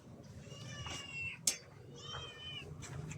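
Several cats meow in a home setting, a few drawn-out cries spaced across a few seconds over a low background hum, with a brief sharp click in the middle.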